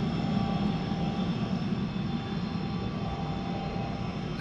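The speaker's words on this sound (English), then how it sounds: "There goes one of those hair dryer airplanes." A steady engine drone hums at a distance, a small propeller airplane passing overhead with an even, buzzing tone that barely changes in loudness.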